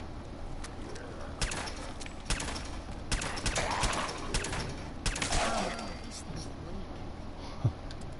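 Gunfire in a PS4 shooter as a character shoots at a wall, a string of sharp bursts spread through a busy background with game sounds and scattered impacts.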